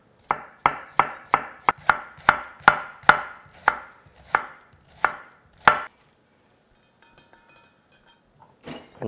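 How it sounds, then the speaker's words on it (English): Romaine lettuce and Brussels sprouts being thinly sliced with a knife: about a dozen crisp chopping strokes in a quickening then slowing rhythm, close and clear, then near silence with faint handling. "I'm gonna slice some romaine lettuce and I have a few Brussels sprouts"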